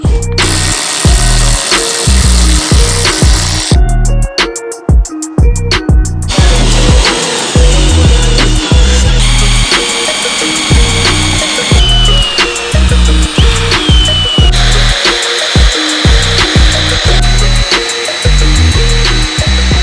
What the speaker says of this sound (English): drilled out all the spot welds